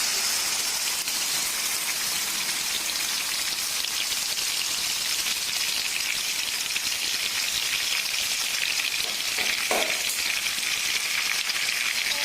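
Blended chili paste sizzles in hot oil with a dense, steady crackling hiss, close and continuous, with a few brief stirring knocks near the end.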